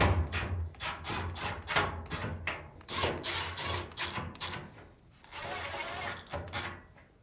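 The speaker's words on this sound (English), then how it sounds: "Now, reinstall the 4 screws." Four screws are driven back into a Samsung dryer's front drum assembly, producing close ratcheting, whirring bursts of a driver with clicks and handling noise, ending in one longer steady run.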